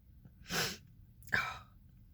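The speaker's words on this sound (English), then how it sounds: "I had this big sneeze this morning that went away, and I think it's back." Two sneezes from one person, the first a loud, airy burst and the second sharper and more abrupt about half a second later, each standing alone against a quiet room.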